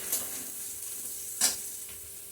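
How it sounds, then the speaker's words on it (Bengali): Onions frying in a pan until brown, a steady low sizzle broken by a couple of brief stirring scrapes, with no voices. "এখন পেঁয়াজের কালারটা এই যে বাদামি কালার হয়ে এসছে। আর অল্প কতক্ষণ ভাজবো"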